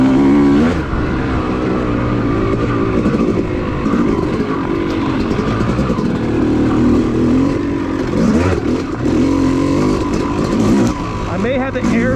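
A dirt bike engine drones loudly and continuously while riding an OHV trail, rising and falling with throttle changes, up close with wind buffeting and a rider's voice talking over it.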